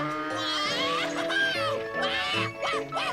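Cartoon sheep in a Moomins episode bleat in a series of wavering, nasal calls with falling pitch, several overlapping voices in quick succession, clear and fairly loud.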